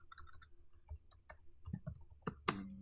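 Clicks of a computer keyboard being typed on while a search keyword is entered, faint, scattered keystrokes in an irregular rhythm over low room noise, ending in a sharper burst.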